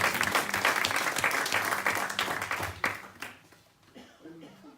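An audience at a French political party's New Year greetings event applauds the young members, a dense burst of clapping with a little laughter that fades out after about three seconds.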